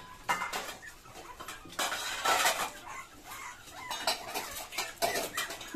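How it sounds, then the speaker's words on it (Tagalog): Dogs' metal food plates clatter and scrape as the puppies eat together, with repeated close clinks and rattles in irregular bursts, fairly loud and without talk. "Narinig na natunog yung plato pa."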